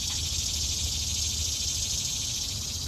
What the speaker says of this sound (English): The cicada just got mad loud.